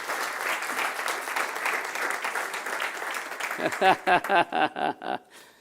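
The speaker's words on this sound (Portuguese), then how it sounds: "E se você crê, aplauda forte o nome do Senhor Jesus." A church congregation claps in a dense, lively burst over a talking preacher's voice, then the applause breaks into a few slower, sharper rhythmic claps before fading out.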